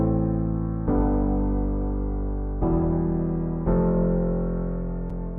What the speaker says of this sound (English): looking at this piano here, you see every note is hitting at the same exact velocity